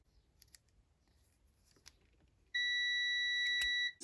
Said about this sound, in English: I'm just going to do a continuity test